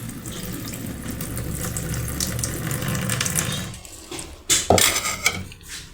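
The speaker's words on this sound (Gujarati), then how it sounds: "आम सरस रीते धोई नाखवानी, पछी ते पाणी ने काढीने जावा देवानुं" Rice and lentils for khichdi being washed under a running kitchen tap, with water pouring steadily into a pot. The flow then gives way to louder sloshing, pouring and clinks as the water is drained off, with no talking.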